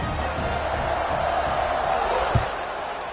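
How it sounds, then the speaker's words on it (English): A broad, steady crowd roar fills a video game football stadium in College Football 26 after a score, with a low thud partway through and a voice talking under it. "this crowd is buzzing after that last score"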